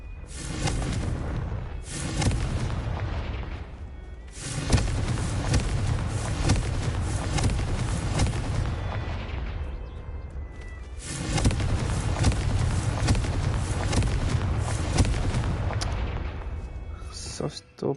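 Confringo blasting spells go off in the Hogwarts Legacy video game as repeated heavy explosive rumbles, with loud booming bursts near the start and again around the middle, spread over busy game sound.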